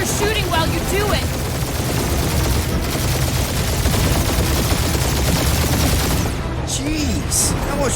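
Rapid ship gunfire in the Guardians of the Galaxy video game, continuous loud bursts layered with explosions and music while characters talk over it.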